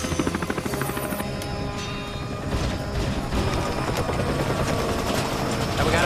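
A helicopter's rotor thuds rapidly and evenly at first, then the scene swells into a louder, dense mechanical roar with clanks and rattles of an overloaded aircraft in flight.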